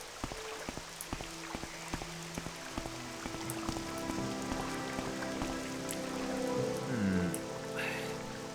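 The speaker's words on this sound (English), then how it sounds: "If I keep standing out here in this rain, my new armor is going to get all rusty" Steady rain falls outdoors in the video game Morrowind, a dense patter of drops on surfaces that builds slightly louder toward the end, with no talking.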